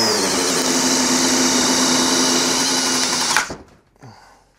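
A power drill with a self-feeding bit bores through wood with a loud, steady high-pitched whine for about three seconds, then cuts off abruptly, leaving a brief rattle and faint spin-down.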